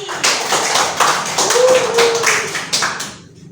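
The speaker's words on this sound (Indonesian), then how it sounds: "Tepuk tangan untuk Mbak Ani." A classroom of students claps for a classmate in a short, uneven burst of hand claps. A voice is heard partway through, and the clapping thins out toward the end.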